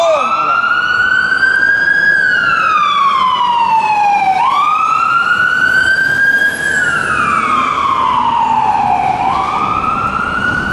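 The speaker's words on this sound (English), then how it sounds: "Fire truck still coming through faithful." A fire truck siren wails loudly in long rising and falling sweeps as the emergency vehicle passes, dominating the scene with faint background noise beneath.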